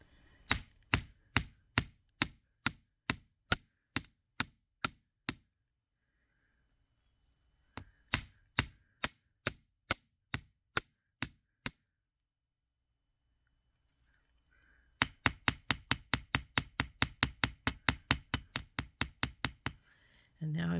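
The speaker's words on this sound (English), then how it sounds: "we're going to get our chasing hammer because I'm going to flatten the point." Sharp metallic taps of a chasing hammer flattening the end of an earring wire for bird's eye hoop earrings, struck in three bursts of steady, evenly spaced blows, the last burst faster, with a brief sound at the end.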